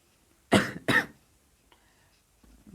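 Two sharp, loud coughs in quick succession close to the mic, followed by quiet and a faint low rustle.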